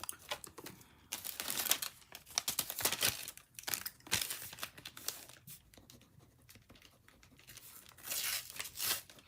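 A Panini World Cup 2026 sticker pack being torn open by hand, with several sharp ripping bursts and crinkly foil rustling in between. It sounds close and fairly loud, with no talking.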